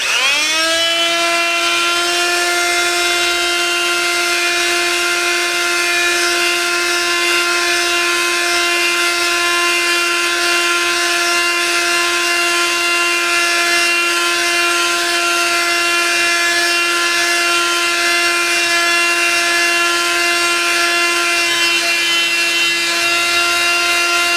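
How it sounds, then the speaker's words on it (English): A loud, steady high-pitched whine of a single-speed Harbor Freight oscillating multi-tool sanding wood continuously, with a faint rough rasp underneath and no pauses. "Let's sand a piece of wood and see what kind of a job it does on sanding."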